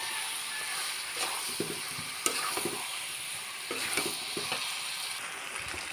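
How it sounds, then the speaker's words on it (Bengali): Olives stir-fried with salt in a pan give a steady, fairly quiet sizzle, broken by scraping and clicking stirring strokes at irregular intervals, with no voices. "নেড়ে ভেজে নেব।"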